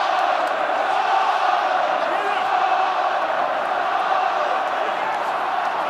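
A stadium crowd roars steadily throughout a Scotland v Ireland Six Nations rugby match as a player carries the ball, a dense, loud and unbroken wall of noise with no clear break.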